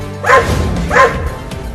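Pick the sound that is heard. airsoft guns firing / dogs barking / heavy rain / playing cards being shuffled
dogs barking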